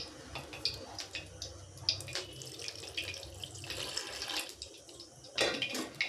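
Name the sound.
water added to ground rice batter for pakora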